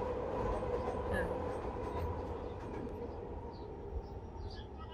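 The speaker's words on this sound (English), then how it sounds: "Like another one, another train." A train rolls past with a steady, loud rumble and rail rattle that holds throughout, a continuous close passage with faint clicks on top.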